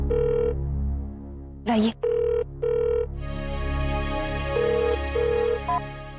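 An old-style telephone bell rings in repeated short bursts inside a home, loud and near, with a brief spoken word and a sharp clatter between rings.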